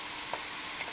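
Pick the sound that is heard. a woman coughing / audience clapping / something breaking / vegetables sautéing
vegetables sautéing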